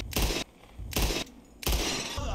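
Gunfire in the Red Dead Redemption 2 video game comes as three sharp, loud bursts of shots separated by short pauses, with no talk.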